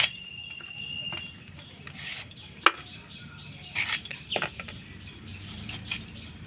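Elephant apple (chalta) is cut with a knife in sparse, close scraping strokes and a sharp chop, with soft rubbing between and birds chirping faintly outdoors.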